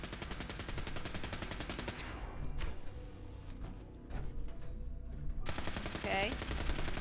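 Rapid automatic gunfire from weapon testing in Fallout 4, loud and continuous bursts of shots, broken by a brief lull of quieter scattered sounds before the sustained firing resumes.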